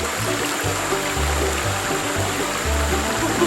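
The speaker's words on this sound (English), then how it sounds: "I love the water sound." Stream water flows over rocks on an Alabama homestead, a constant rushing and burbling wash with low rhythmic pulses underneath, loud and close with no voices.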